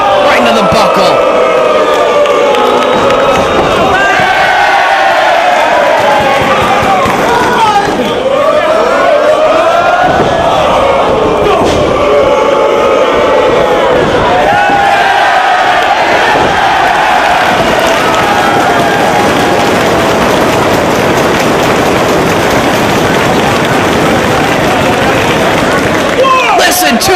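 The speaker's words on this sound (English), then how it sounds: "Listen to these fans cheering every move from CM Punk." A wrestling crowd at the 2005 Death Before Dishonor III show for Austin Aries versus CM Punk cheers and roars loudly and continuously, swelling in waves with whoops and babble throughout.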